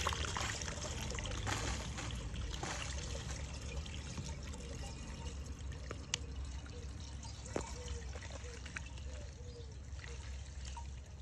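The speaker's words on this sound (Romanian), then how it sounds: "Ulterior vom pune restul de apă, 50 de grame la 10 litri de apă." Water pours into the tank of an O'Mac AT 340 orchard sprayer while a fungicide solution for a walnut orchard is mixed, a soft steady trickle running throughout with a few faint drips and knocks.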